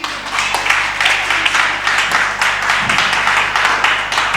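An audience at a museum evening event applauds continuously, a dense wash of clapping at steady loudness with no gaps.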